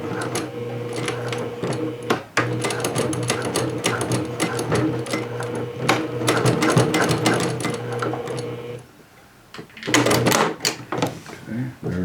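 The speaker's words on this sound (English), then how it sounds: "I'm going to go ahead and do a few stitches to keep this serged edge from fraying." A sewing machine runs steadily and close up as it stitches across the serged edge of a pair of jeans. It pauses briefly near the end, then makes a few more short bursts of stitching.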